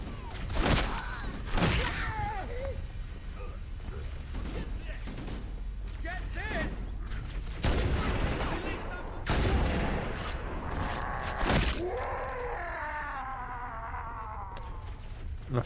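Sharp gunshots crack repeatedly at a shooting gallery in a video game, scattered bursts over a busy game soundscape, with a person talking over them.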